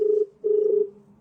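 A telephone on a live call to a state official sounds two long, even ringing tones separated by a short gap, clear and close, with no voices.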